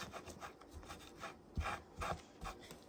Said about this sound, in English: I do have to go over it a little bit with another sandpaper